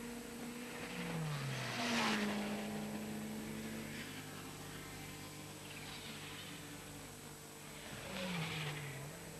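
Class 4 and 5 race cars lap a street circuit in Skopje in 2003, their engines whining past at a distance with rising and falling pitch over a constant background hum.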